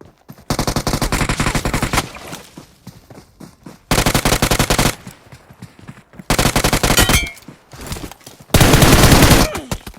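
Rapid automatic gunfire in a shooting video game, four loud bursts separated by short pauses, close and sharp, with quieter background sounds between.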